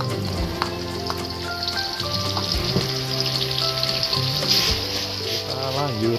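Banana flower ingredients frying in a hot pan for a vegetable dish, a steady loud sizzle and crackle running throughout with occasional stirring clinks.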